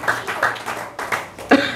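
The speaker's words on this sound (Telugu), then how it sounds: "చప్పట్లు కొట్టండి." Audience clapping in a Telugu church sermon hall, bursts of hand claps rising and falling across the clip, moderately loud with a brief louder spike near the end.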